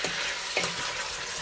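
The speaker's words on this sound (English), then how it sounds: "Give it a stir" Pork and bean pepperpot sizzles and bubbles in a pot as it is stirred, a dense, continuous frying hiss with soft scraping strokes at close range.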